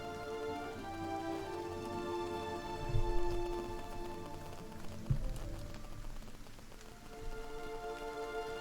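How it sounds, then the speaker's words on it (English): Steady rain pours in the fantasy role-playing game Pillars of Eternity, a dense even patter with soft thuds at two moments, no voices over it. "It's raining."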